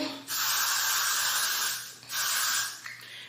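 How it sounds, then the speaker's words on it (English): Got2b hairspray hisses onto hair in two close, steady bursts, the first about 1.7 seconds long and the second about a second, separated by a brief pause. "the only goal of spraying that is just to reduce flyaways"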